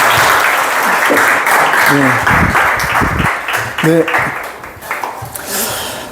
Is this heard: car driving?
no